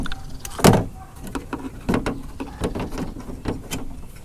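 A door handle being pried and pushed off a Chevrolet OBS truck door, a string of sharp plastic and metal clicks and knocks with one louder snap near the start, close up and without talk.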